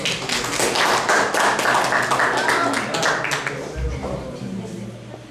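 Classroom audience clapping for a classmate in a labor-law lesson, a dense burst of hand claps mixed with taps and thumps that fades somewhat toward the end, with voices talking over it.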